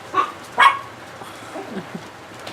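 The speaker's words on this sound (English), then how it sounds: "there's dogs fighting behind us" Dogs fighting outdoors, with two short sharp bursts of barking or yelping at a moderate distance, followed by fainter scuffling sounds against quiet background noise.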